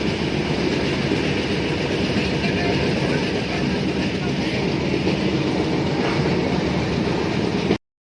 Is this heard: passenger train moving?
yes